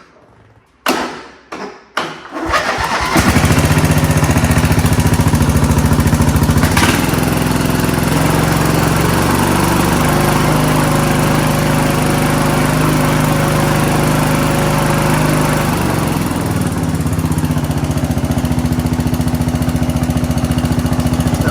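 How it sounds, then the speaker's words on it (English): A Briggs and Stratton Vanguard 16 hp gasoline engine sputters to life after a few starting pulls, then settles into a steady, loud, continuous idle that runs on without a break. "Seems like it's idling well."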